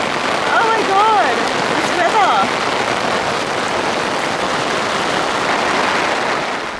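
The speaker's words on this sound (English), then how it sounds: "it just started like pouring down with rain" Heavy rain pours down on city streets in Paris with a constant loud hiss of drops hitting the ground and an umbrella, while brief voices and squeaky sounds rise above the downpour early on.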